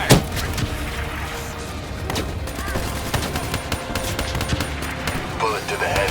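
Automatic gunfire from Call of Duty Black Ops 3 crackles in dense, overlapping bursts with sharp thuds, loud and steady throughout, with faint voices mixed in.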